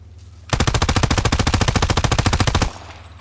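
M1928 submachine gun firing a single sustained automatic burst of about two seconds in the video game Call of Duty: WWII, loud, rapid and evenly spaced shots with no talk.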